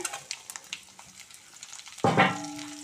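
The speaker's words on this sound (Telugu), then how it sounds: "ఇప్పుడు మనం కట్ చేసి పెట్టుకున్న ఈ బెండకాయ ముక్కలు దీనిలో వేసేసుకుందామండి." Chopped okra tipped into hot tempering oil in a pan: after a few quiet clinks, a sudden loud sizzle bursts up at close range and keeps hissing steadily.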